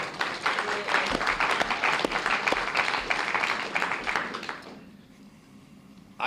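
An audience at a 2014 New Hampshire state senate candidate forum claps for the moderator, a dense burst of applause for about four and a half seconds that fades out quickly into quiet.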